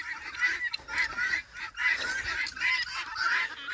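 Guinea fowl and chickens call in a noisy, repetitive chorus of harsh squawks and cackles, fairly close and continuous without pause.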